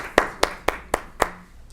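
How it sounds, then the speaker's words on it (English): Five slow, evenly spaced hand claps ring out in a meeting room, each a sharp distinct smack, as a small audience begins applauding people called to the front; the claps stop and the room falls quiet. "let's give them a good hand of applause"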